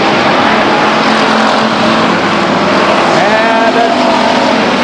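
Race cars roaring around the oval at Stockton 99 Speedway, a loud continuous engine din with a pitch sweep as cars pass nearby; a commentator's voice is faintly mixed in underneath.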